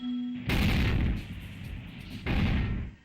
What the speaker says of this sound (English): they made the explosion sound for that statue really, really loud